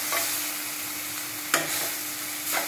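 Masala for a raw jackfruit curry frying in a pan on a gas stove, a steady soft sizzle with a couple of brief stirring scrapes, close and alone.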